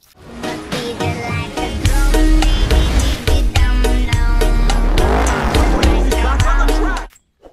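Lightning McQueen toy race car, a loud sound effect of a roaring racing engine with squealing tires that runs steadily for about seven seconds under bright, busy music before cutting off.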